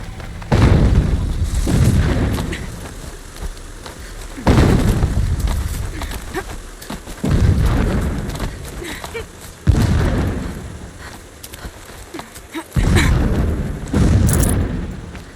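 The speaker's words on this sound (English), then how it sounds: "Explosions in the distance." Distant explosions rumble in Horizon Zero Dawn, five heavy booms arriving every few seconds, each a sudden loud onset that rolls off into a long fading rumble, with faint game ambience between.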